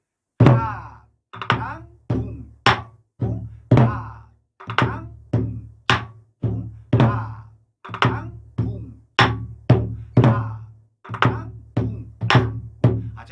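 A Korean barrel drum is struck over and over in a lively pattern of deep, resonant thumps, some hits doubled quickly, played close and loud.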